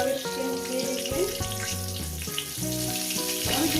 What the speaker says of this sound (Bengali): আলুগুলো আমি পাঁচ মিনিট ভেজে নিচ্ছি